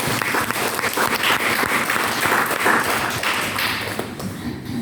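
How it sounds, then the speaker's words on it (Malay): Audience at a business event in Melaka applauds its leaders with loud, continuous clapping, many hands close and crisp, holding steady before tapering slightly at the end. "Bagi tepukan untuk pemimpin yang tamat."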